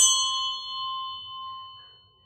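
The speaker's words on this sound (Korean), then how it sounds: "종소리가 컸죠?" A single church bell struck once, a loud bright clang that rings on with a sustained humming tone and slowly fades over a couple of seconds, heard alone.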